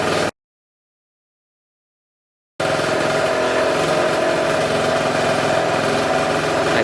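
A scooter engine idles at about 2,300 RPM after its idle mix screw was adjusted, a steady close drone that resumes after a brief silent gap.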